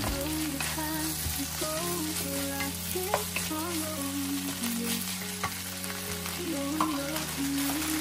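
Leftover meat fries in a pan for yakisoba stir-fried noodles, a steady, close sizzle with scattered pops and light clatter running throughout, no voices over it.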